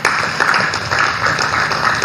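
Dense, steady clapping from a seated audience at a formal Ugandan gathering, continuous and fairly close throughout, with no voices over it.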